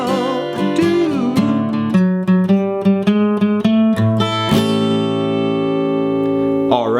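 Acoustic guitar picks out a 12-bar blues turnaround in a blues piece, with quick plucked notes and bass strums that end in a sustained ringing chord, played alone and close.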